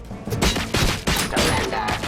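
Sustained gunfire from a firefight in the RoboCop: Rogue City video game, with dense overlapping shots and bursts, loud and close, running continuously without a break.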